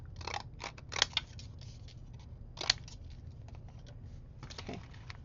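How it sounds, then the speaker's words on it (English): A Fiskars paper punch edges cardstock in a crafting session, giving several sharp close clicks and crunches in irregular bursts over a quiet background. "I'm going to use my Fiskars punch to give it a little bit of an edge."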